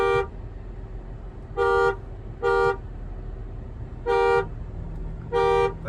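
Car horns honk at a herd of horses blocking a mountain road on the Kaza to Manali route in Spiti, sounding as four loud, evenly spaced blasts of about half a second each over a steady engine rumble.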